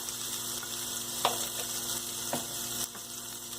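Vegetable puff filling with garam masala and chopped coriander sizzles steadily in a pan, with a few soft stirring scrapes standing out over the continuous frying hiss.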